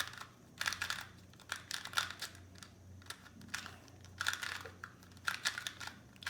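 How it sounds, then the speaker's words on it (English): Plastic clicks and rattles in quick bursts up close as a 2x2 Rubik's cube is twisted, with short pauses between turns. "So I'll shuffle up the cube."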